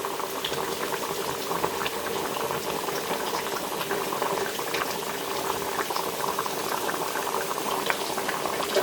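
Pumpkin and fish curry with potatoes simmering in a wok, giving a steady, close bubbling and gurgling boil throughout.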